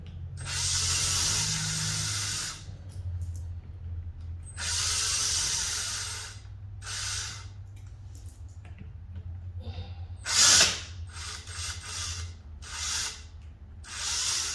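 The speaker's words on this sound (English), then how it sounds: "So I already broke them loose, so I'm just using the tool so that it can be quick." Ratchet tool spinning out already-loosened bolts on the solenoid bracket of a BMW E70's 6HP transmission, in several close bursts of rapid clicking separated by short pauses.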